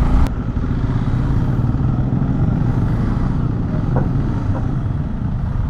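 A KTM 390 Adventure R motorcycle engine runs steadily at low revs with a rough, uneven idle hinting at stalling, loud and close amid traffic noise, with a few light clatters.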